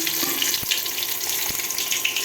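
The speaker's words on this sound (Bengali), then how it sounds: "তেল গরম হয়ে গেছে পুরনে দেব জিরা আর দারচিনি" Cumin seeds and cinnamon crackle in hot mustard oil in a wok: a steady, bright sizzling hiss with a few soft pops, close and even throughout, and no voices.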